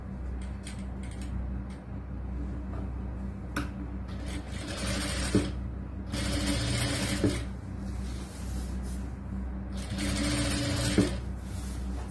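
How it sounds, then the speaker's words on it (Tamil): A sewing machine stitches the side seam of a churidar lining in several bursts of rapid whirring, with brief pauses and soft handling of fabric between runs, close and without voices. "இந்த சைடு ஓபன்ல இந்த ஓரத்துல ஒரு ஓர தையல் போடலாம்"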